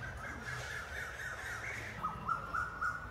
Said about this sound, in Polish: śpiewające ptaszki na drzewach